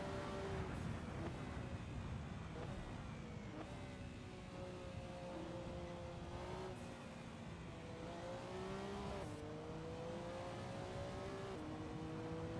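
A race car from the 2012 24 Hours of Le Mans, driven in a racing video game mod, accelerates and shifts through gears again and again, its engine whine rising and dropping at a steady distance over faint tire noise.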